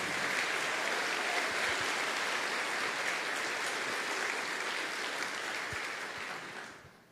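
A church congregation claps in sustained, dense applause that carries on at an even level for several seconds, then fades out at the end.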